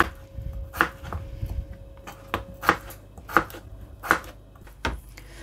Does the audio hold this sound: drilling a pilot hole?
no